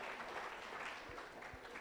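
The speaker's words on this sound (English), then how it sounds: "A round of applause for yourselves." Audience applause at a cooperative movement stakeholders' conference: a steady, fairly faint patter of clapping from a crowd that fills the whole moment without a break.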